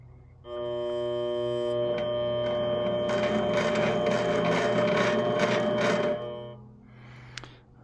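A Vevor mini lathe cutting threads for motorcycle mirrors on a spring pass: a steady motor whine and hum with a gritty cutting rasp building midway, then spinning down, with a faint click at the end.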